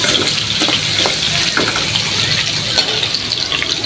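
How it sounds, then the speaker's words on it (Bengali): Potatoes fry in a pan for biryani with a loud, close, continuous sizzle and crackle, with occasional stirring and no clear speech. "আলু দুটো ভাজে নিই"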